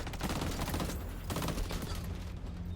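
Sustained rapid gunfire in the shooter game XDefiant, a loud continuous burst with a short gap near the middle, then more shots trailing off.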